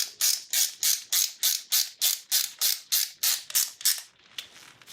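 A hand ratchet tightening a bolt on the fuel filter of a 1999 Acura RL, about fourteen quick rhythmic clicking bursts close up, ending in a short softer tail.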